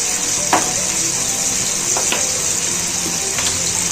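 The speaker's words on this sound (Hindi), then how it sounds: "अब लहसुन की भुनाई प्याज टमाटर के साथ होगी" Close, steady sizzling of garlic frying in a hot pan, with a few soft scraping stirs cutting through the constant hiss.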